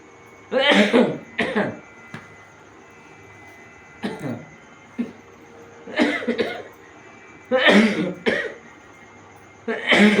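Several harsh coughs come in short clusters, with pauses between them, close and fairly loud against a quiet background.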